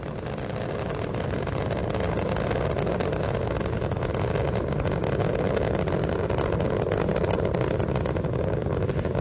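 The Space Shuttle Endeavour's three liquid-fuel main engines roar at launch, heard as a dense, steady, loud rumbling blast that continues without break, with no voices over it.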